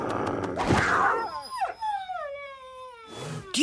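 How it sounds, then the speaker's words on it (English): A dog howls in a cartoon scene. A rough, noisy yelp gives way to a long, mournful howl that slides downward in pitch, and a faint rustle follows at the end. "Do you hear something? Like maybe that dog?"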